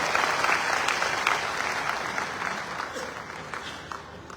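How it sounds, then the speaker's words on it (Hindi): An audience at a youth camp gathering applauds, a dense burst of clapping that starts strong and gradually thins and fades toward the end. "जोरदार तालियों से धन्यवाद करते हैं"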